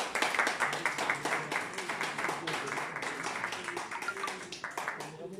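Audience at a press conference at the Zenith in Paris claps in a sharp, uneven rhythm, individual claps standing out loudly while voices murmur underneath throughout.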